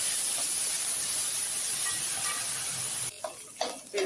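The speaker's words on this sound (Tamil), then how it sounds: "இது எல்லாத்தையும் நல்லா வதக்கணும்" Thuthuvalai and curry leaves sautéing in a pan give a steady, close hiss and sizzle that cuts off sharply near the end, followed by a few soft clatters from stirring.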